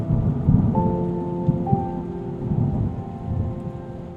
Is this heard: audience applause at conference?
no